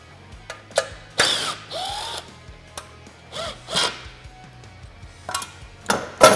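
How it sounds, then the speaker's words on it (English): Ratchet wrench cranking bolts out of a Can-Am Maverick winch mount, quick loud clicking bursts separated by pauses, close and clear with no talk. "Remove these 2 bolts."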